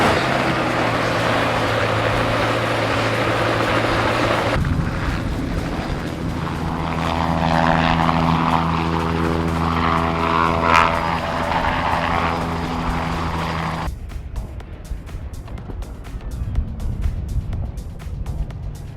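A steady, droning helicopter engine with a throbbing rotor hum holds for most of the clip at Turweston, then drops away sharply, leaving quieter background noise.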